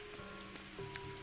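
Rainfall in the video game Pathologic 2, a faint, steady hiss of drops with a few brief crackling spatters over a low ambient hum and a thin sustained tone.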